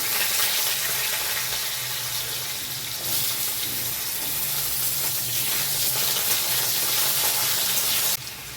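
Loud, continuous sizzling of potatoes and nigella seeds frying in hot oil in a wok, a dense crackling hiss that holds steady close by, with occasional stirring.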